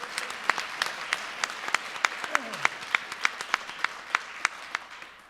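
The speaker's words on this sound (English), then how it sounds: "this is also a thank you with applause" A roundtable audience applauds together, a steady clapping wash with distinct sharper claps standing out; talk can be heard faintly underneath.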